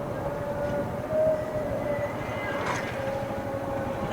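A train passes along a railway line near a station in Mymensingh Sadar, a steady rumbling drone with a faint tonal whine, no voices.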